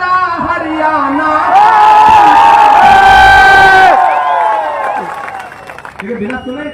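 A crowd at a political election rally in Mewat, Haryana swells into loud cheering and shouting, peaking in the middle before fading, with a speaker's amplified voice carrying through the noise.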